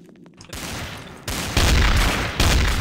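Rapid bursts of gunfire from the video game Garry's Mod Trouble in Terrorist Town, several loud close volleys stacking up in quick succession over a couple of seconds, with no voices.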